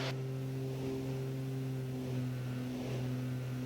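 A small airplane engine droning steadily in flight as power is brought back for the climb, a constant loud hum with stable harmonic tones and a slight pitch change partway through.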